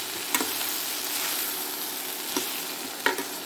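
Ridge gourd sizzles steadily as it fries in a pan for a Tamil poriyal, with a few sharp scrapes and clicks of stirring breaking through the constant hiss.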